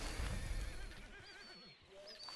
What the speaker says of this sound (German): Guck mal, da ist ein Pferd.